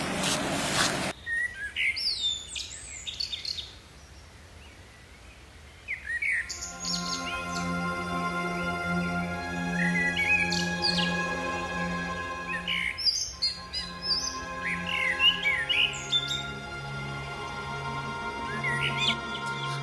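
Several birds chirp and tweet in a natural outdoor setting, bright repeated calls after a brief opening burst, some near and some farther off, with no talk.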